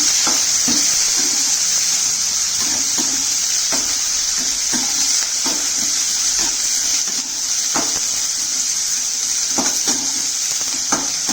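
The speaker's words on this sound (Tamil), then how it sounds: "நல்லா எண்ணெயிலே கொஞ்சம் நேரம் வதக்குங்க." Steady loud sizzling of chopped chayote sautéing in hot oil, with intermittent scraping and stirring clicks throughout.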